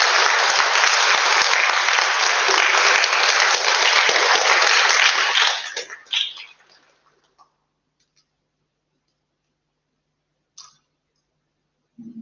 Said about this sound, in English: Please give all our speakers from today another big round of applause.